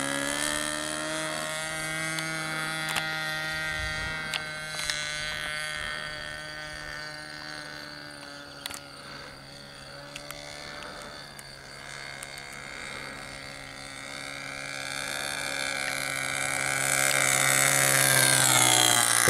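Nitro-powered RC Cessna 177 Mini Cardinal model plane with a 1.73 m wingspan, buzzing engine drone passing by on a flyby, steady for a long stretch and then rising louder toward the end, heard outdoors with no talk.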